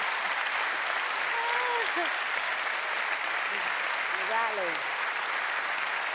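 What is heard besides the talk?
audience applause at a Labour campaign speech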